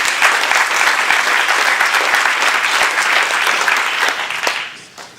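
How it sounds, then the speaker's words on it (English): An awards ceremony audience breaks into loud, sustained applause, many hands clapping densely together before the sound thins and fades out near the end. "So give yourselves an applaud, because we're all doing this work,"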